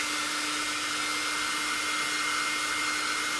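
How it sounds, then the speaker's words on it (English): A hair dryer drying watercolour paint blows steadily and loudly throughout, a constant whooshing roar with a faint motor hum. "So I am going to put the hairdryer on."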